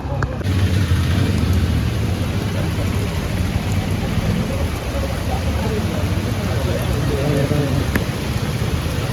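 Steady, loud downpour roaring throughout on a Bengaluru street, a dense wash of rain noise with a low rumble underneath and faint voices mixed in.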